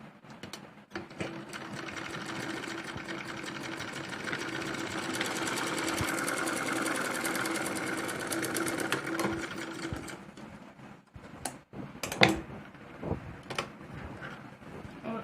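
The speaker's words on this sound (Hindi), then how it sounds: "अब इसको खोल के इसके ऊपर दबाने वाली सिलाई लगा लेंगे।" Sewing machine stitching a salwar, running in a long steady mechanical rattle for around nine seconds, then stopping amid scattered clunks and handling knocks at close range.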